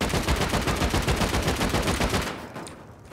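Rapid automatic gunfire in the video game Rust, a dense, loud string of shots for about two seconds that then fades to quiet.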